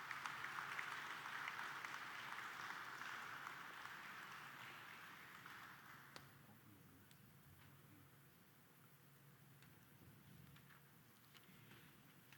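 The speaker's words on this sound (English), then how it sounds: "Ladies and gentlemen, a round of applause and congratulations" Audience round of applause at a Philippine Air Force ceremony, a steady mass of clapping that is loud for about six seconds, then thins and fades to scattered claps and faint room noise.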